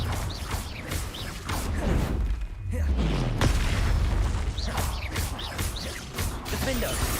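Confringo blast spells going off in a Hogwarts Legacy battle, with booms, crashes and whooshes blending into a continuous loud, dense rumble.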